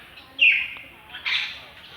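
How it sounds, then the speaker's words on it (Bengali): A bird calls outdoors, two short high chirping notes a second apart, moderately close against quiet background. "বন্ধুরা এখানে একটা পাখি দেখতে পাচ্ছ।"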